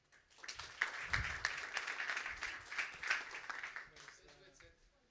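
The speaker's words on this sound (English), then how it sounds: "Mário, give him an applause, please." Audience applause at a startup incubation meetup in Lisbon welcomes a co-founder to the stage, a quiet, distant patter of clapping that swells and fades over a few seconds amid murmuring.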